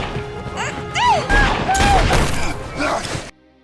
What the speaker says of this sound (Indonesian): Beng berhasil menemukan Jim lalu menembaknya.